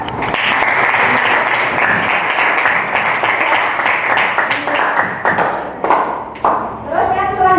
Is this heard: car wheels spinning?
no